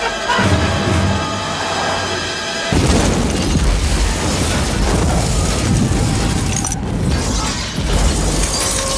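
Bomb blowing up in a trash can in a Die Hard 3 action scene: an abrupt loud boom with shattering debris, followed by a sustained rumbling, crackling roar.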